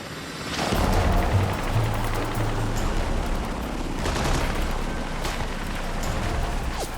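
Bursts of gunfire crackle over a constant heavy helicopter rotor roar during a night rescue on a mountainside in Taliban territory, with repeated sharp reports spread through the noise.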